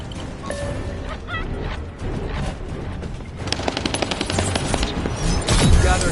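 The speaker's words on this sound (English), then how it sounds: "Operating assault turret." Assault turret firing in The First Descendant, a sci-fi shooter game: dense rapid bursts of automatic gunfire build toward the end over a busy game soundscape of scattered tones and effects.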